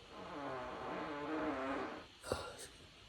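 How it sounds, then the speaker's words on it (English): A long, wobbling, drawn-out fart, fairly close, followed by a short sharp burst and a fainter trailing puff. "That fart was crazy."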